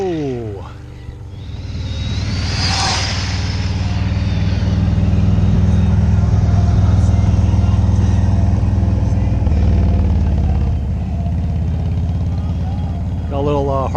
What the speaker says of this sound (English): Got a little Harley interruption here, guys. Nice big hog.